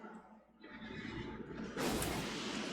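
A knight's horse in Elden Ring lets out a loud whinny that swells and brightens toward the end, rising over dark game ambience in a short burst.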